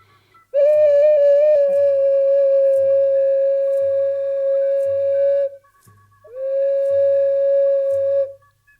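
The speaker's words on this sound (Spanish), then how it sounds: "Yo tengo ahorita aquí en mis manos un caracol que es de barro" A clay conch-shell trumpet sounds two long, steady, hooting blasts separated by a short pause, with a faint rhythmic thumping underneath.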